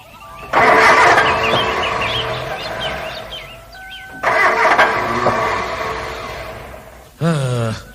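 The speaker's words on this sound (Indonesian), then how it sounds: "Mau dipakai nyari duit, mendadak mesinnya jadi ngadat begini." A car engine repeatedly cranks and sputters without catching, two long loud grinding starter attempts separated by a pause, then a short third burst, close and harsh, with no talking.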